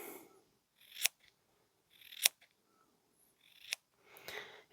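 Scissors trim wool felt in four crisp, separate snips spaced about a second apart, close and quiet, with soft rustling between cuts and no voices.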